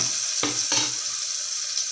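Chopped onions frying in oil with curry leaves and asafoetida: a steady bright hiss of sizzling oil, close and continuous, broken by two quick stirring scrapes near the start.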